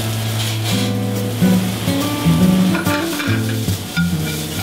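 Shallots, pancetta and wild mushrooms sauté in olive oil in a hot pan, a steady close sizzle with stirring scrapes and some hum running through it, no voices.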